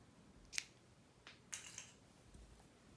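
Scissors cut through crochet yarn for an Afghan-stitch tote bag: two sharp, close snips about a second apart with a fainter click between them, in an otherwise quiet room.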